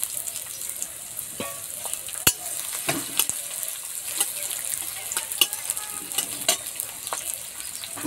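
Chopped garlic, onion and green chilli, added after whole cumin, frying in hot oil in a pan, with steady sizzling crackle and a few sharper pops and scrapes as the mix is stirred.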